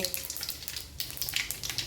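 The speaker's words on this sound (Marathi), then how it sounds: "त्याची फोडणी करून ठेवा मोहरी मस्त मोहरी घातलेली आहे" Mustard seeds sizzling and crackling in leftover frying oil for tempering, a close, steady hiss with small pops, without speech.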